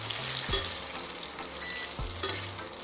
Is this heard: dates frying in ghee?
yes